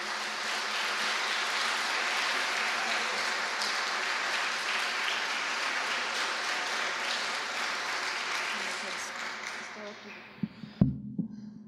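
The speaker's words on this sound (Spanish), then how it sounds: "Démosle un fuerte aplauso," Sustained applause from a conference audience, a dense steady wash of clapping that fades out toward the end, followed by a few isolated louder knocks.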